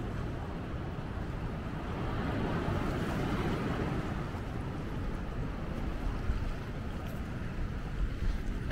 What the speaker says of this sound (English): You can still hear the Bow Falls.